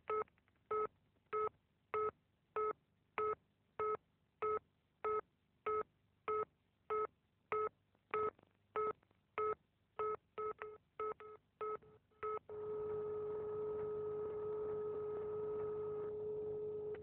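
A telephone number is dialed on touch-tone keys, giving a steady series of about two dozen short, even DTMF beeps that speed up toward the end. A continuous tone follows, loud and close.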